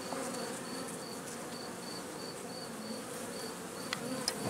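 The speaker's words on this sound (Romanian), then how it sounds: "albina este liniștită." Honeybees buzz steadily around a hive frame in an apiary, a dense, continuous hum with faint higher whines drifting through it at an even, moderate level.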